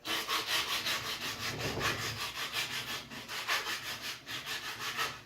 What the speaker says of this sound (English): So I'm just sanding the jog out of that.